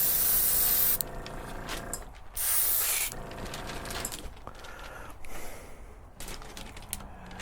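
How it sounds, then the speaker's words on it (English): An airbrush or spray can lays a light dust coat of gold paint on a 1:350 Enterprise refit model saucer, in several near hissing bursts separated by short pauses with faint handling clicks. "That's going to be just gold. So just really a light dust coat."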